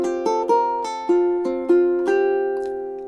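A ukulele picks out a short melody of about eight plucked notes at an unhurried, even pace, each ringing on into the next, closing on a held open string that fades out, with no voices.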